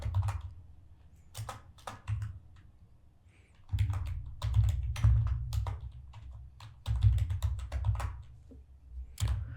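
HTML code being typed on a computer keyboard: quick clusters of close, crisp key clicks with short pauses between bursts, over a low steady hum.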